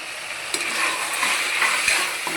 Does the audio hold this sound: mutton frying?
yes